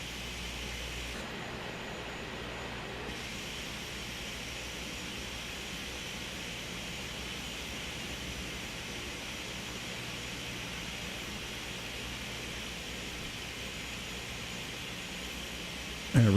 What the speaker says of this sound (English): we'll wait for Rico to make his takeoff roll here before we proceed